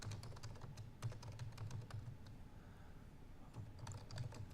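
Steady typing on a computer keyboard entering a Docker network command, a quiet, continuous patter of key clicks with a few louder taps, heard close and alone.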